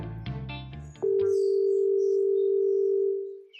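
A telephone call begins with a few short dialing tones, then a single steady ringback tone holds for about two seconds before fading out; no one speaks.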